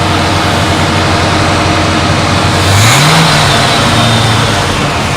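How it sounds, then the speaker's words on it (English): A car engine freshly fitted with a rebuilt Quadrajet carburetor idles loudly and up close, then rises in a short rev at wide open throttle before settling back. "we're going to hit the throttle to simulate a wide open throttle condition"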